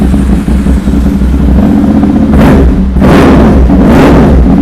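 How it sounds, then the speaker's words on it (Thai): A 2014 Ducati 796 motorcycle engine idling close by, rumbling and then revving sharply twice, each rev climbing fast and dropping quickly. "รอบเครื่องขึ้นเร็วลงเร็วนะครับผม"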